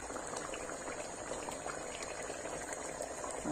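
Vegetables and minced-meat meatballs simmer in a covered pot, giving a steady, close bubbling hiss that continues evenly throughout with no talking.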